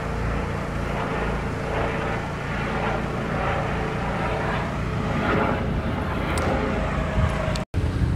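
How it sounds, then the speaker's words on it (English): A police helicopter passes overhead in an outdoor setting, a loud, steady broadband rotor and engine roar that stays constant throughout, with only a brief dropout near the end. "The police helicopter just there,"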